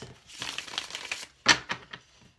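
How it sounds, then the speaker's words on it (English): Gilded Tarot cards are shuffled close up in a quiet room, giving soft papery riffles and flicks that end in a few sharp snaps, with no voice over them. "I am also shuffling the Gilded Tarot"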